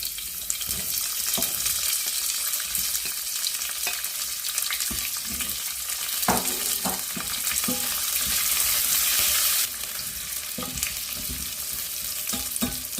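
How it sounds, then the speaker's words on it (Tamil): Small onions and chana dal fry in oil in a pan, giving a continuous close sizzle with occasional clinks and scrapes of a stirring spoon and a brief rush of water partway through, with no talking. "இந்த வெங்காயம் கொஞ்சம் பொன்னிறமாக வதங்கட்டும்"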